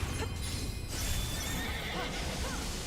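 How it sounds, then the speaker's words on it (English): Horse neighing and whinnying in the action game Strangers of Paradise, with hoof clip-clop among steady battle noise and game sound effects; no voice over it. "Kill that horse."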